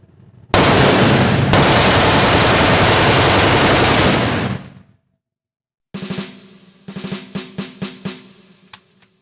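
A rifle fires a long, loud continuous full-auto burst of about four seconds, then after a pause a few rapid shots followed by a series of sharp separate shots.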